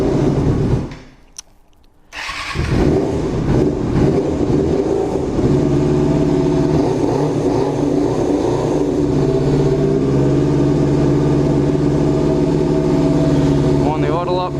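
A motorcycle engine with Keihin CVK30 carburetors runs steadily and loudly at close range after a brief dip at the start, with the idle holding throughout.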